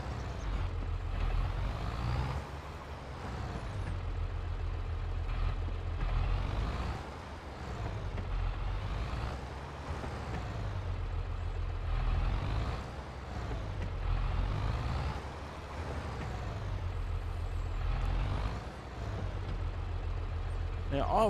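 Farm Simulator 22 tractor hauling an attached trailer, a steady low engine drone that swells and eases as it drives, running continuously under occasional talk.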